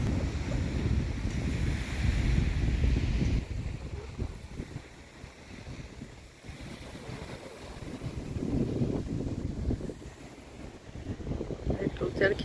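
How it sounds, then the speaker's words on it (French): Wind buffets the microphone on a beach at Santa Maria, Cuba, with waves washing in as a broad rushing surge that swells and fades, and a voice speaks faintly over it. "Je vais vous montrer la plage."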